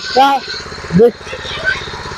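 A small power weeder engine runs at close range with a steady, rumbling idle and a regular low pulse, while someone speaks loudly over it during gear-change instructions.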